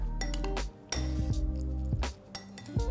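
Spoon clinking and scraping against a bowl while yogurt raita is stirred with salt and chopped spring onions, several quick close chinks with soft squishy mixing in between.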